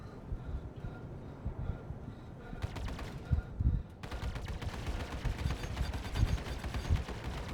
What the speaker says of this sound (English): Fire bursts. Give your weapons time to cool, or they'll overheat